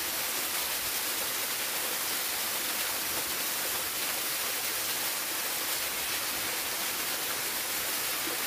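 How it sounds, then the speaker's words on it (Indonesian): A waterfall roars as a steady, dense rushing wash that stays even throughout, with no voices over it. "area air terjun itu."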